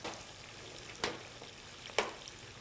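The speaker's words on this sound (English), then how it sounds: "Now you add the onions into the cooking oil with the... Right. So we saute it together" Onions sauté in cooking oil with a soft, steady sizzle, broken by two sharp stirring scrapes about a second apart, no voices.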